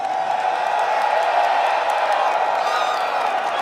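A large live crowd at the 2XKO Evo top 8 esports event cheers and roars for Hikari, a steady dense wall of voices and whoops sustained throughout without a break.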